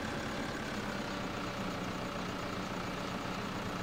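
A tractor engine in the video game Landwirtschafts-Simulator drones steadily at a constant rough idle-like pitch, a continuous low mechanical hum with no talking.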